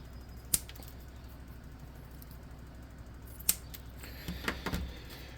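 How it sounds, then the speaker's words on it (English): Quiet, sharp snips from a pair of scissors cutting out a shape, two distinct cuts a few seconds apart followed by a quick cluster of smaller snips. "I'm just going to get a pair of scissors and try to cut them in a similar shape."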